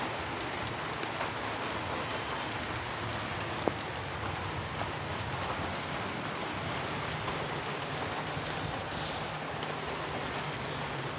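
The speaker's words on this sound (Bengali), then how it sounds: "এইভাবে করে বৃষ্টি চলে এলো" Rain falls softly and evenly over a garden, a faint continuous hiss with no break and no talking.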